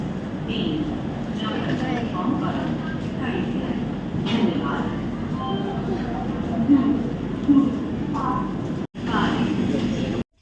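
A train rumbles at platform 2 of Guwahati railway station, with a low continuous hum and clatter beneath people chatting nearby.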